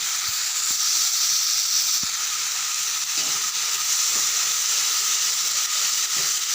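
Ginger, garlic and green chilli fry in a pan over low flame, giving a loud continuous sizzle and hiss with a few scattered taps from stirring, and no talking.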